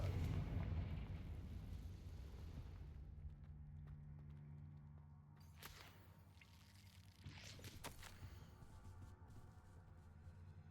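A Confringo blasting spell from Hogwarts Legacy lands as a low rumbling burst that fades into a quiet tail, followed by a few sharp cracks and a second softer blast.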